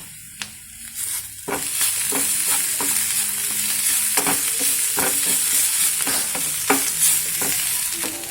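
Spiced onion masala with turmeric and salt sizzles steadily in a pan as a spoon stirs it, with repeated scraping strokes and clinks over a constant loud frying hiss.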